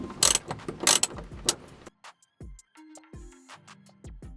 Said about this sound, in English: take out this 10mm bolt